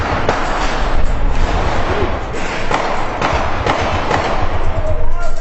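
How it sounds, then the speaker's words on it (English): Gunfire from handguns and a machine gun during a street clash with rocks and small explosives, loud repeated cracks and thuds over a noisy crowd with voices shouting. "Then the yellows started shooting."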